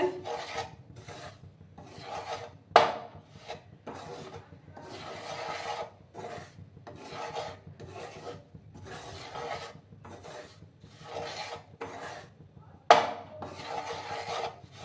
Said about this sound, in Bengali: এইভাবে নাড়াচাড়া করে যেতে হবে